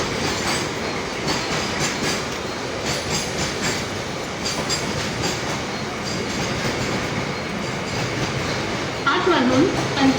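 An Indian Railways freight train rolling past a station, with a continuous loud rumble and rhythmic wheel clatter throughout and a brief squeal near the end.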